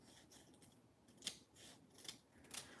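Sharp scissors snip craft dimensionals in half, giving three or four crisp, close cuts spaced about a second apart with soft handling rustle between them.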